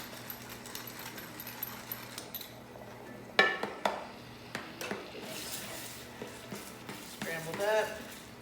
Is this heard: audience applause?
no